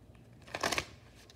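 A deck of tarot cards is shuffled by hand in one short, soft riffling burst of papery flutter, close and fairly quiet, with no talking.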